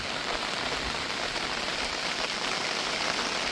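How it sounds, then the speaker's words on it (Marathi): Steady rain falls on a surface, a dense, even patter that never lets up. "पाऊस मस्त चालू आहे"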